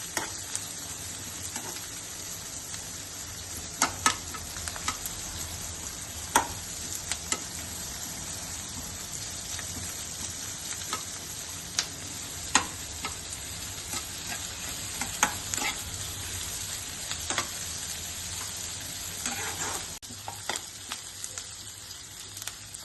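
Steady close sizzle and crackle of ingredients frying in a pan for kara kuzhambu with dry fish and brinjal, broken by occasional scraping stirs, continuous throughout with no talking.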